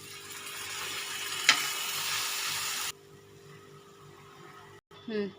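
Spinach and garlic paste frying in a pan for lasooni palak paneer gives a loud hissing sizzle that cuts off abruptly, leaving a quieter background and a brief clatter near the end.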